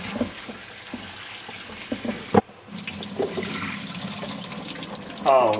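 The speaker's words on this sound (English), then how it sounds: "our vegetables. Give them a good little rinse." Vegetables for a chicken pot pie rinsed under running water, a low steady splash and hiss from a kitchen tap that continues after a sharp clunk, close and moderately quiet.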